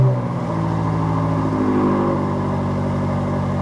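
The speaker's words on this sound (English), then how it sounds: "Once this is done, you can start the car again" A BMW F90 M5 engine running after a restart, a steady mid-pitched idle that dips slightly as it settles, close and fairly loud with no voices.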